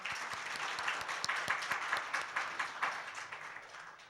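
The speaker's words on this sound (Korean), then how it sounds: "큰 박수 한번 부탁드릴게요" A conference audience at an open-source software event applauds steadily, a dense, even patter of many hands that carries on for about four seconds without talk.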